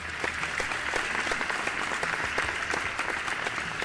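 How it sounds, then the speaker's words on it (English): A seated audience at a school math bee competition in Andhra Pradesh claps steadily throughout, a dense, continuous patter of many hands, with no voices over it. "Just clap for yourself."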